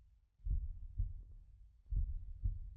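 A heartbeat thumps in a psychological horror video game, deep and close, in double-beat pairs that repeat twice at a steady pulse with a soft low hum between, and no voices.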